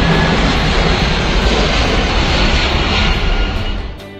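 A firefighting supertanker aircraft's engines give off a loud, dense, continuous roar that fills the sound and fades slightly at the very end.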